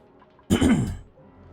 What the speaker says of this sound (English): Again, apologies for the coughing.